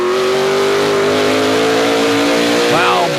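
Stock race cars roar through a corner at the Kawartha 250, engines droning loud and close with a rising rev at the end, while an announcer talks over them.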